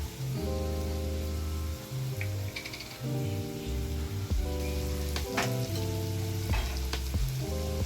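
Asafoetida dropped into hot oil in a pan, a loud continuous sizzle and crackle with bursts of spattering and a low steady hum beneath, no voices.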